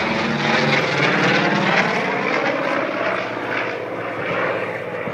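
A Corsair fighter plane at an airshow passes with a loud, sustained roar and airy whistle from air rushing through the oil coolers in the wing leading edges, steady and close with slight swelling.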